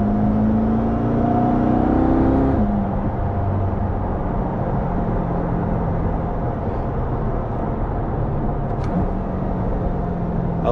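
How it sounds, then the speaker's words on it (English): A 2022 Chevrolet Corvette C8 in C8-R Edition trim is revved with both shift paddles pulled, giving a loud, steady engine drone heard from inside the cabin. The pitch drops after a few seconds, then holds a sustained hum with no talk. "You pull in both the paddles and you can just rev the motor."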